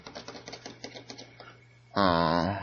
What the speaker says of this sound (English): You hear him typing.